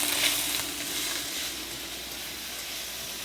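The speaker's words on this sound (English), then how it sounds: "So we're going to put in one onion that has been diced." Diced onion hits a smoking-hot wok with a bright, steady sizzle that starts loud and settles into a continuous hiss, heard close and without talk.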